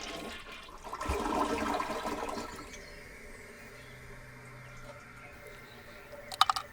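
A household toilet flushes with a strong rushing swirl of water that swells, then settles into a quieter refill trickle and hiss, ending with a couple of sharp clicks nearby.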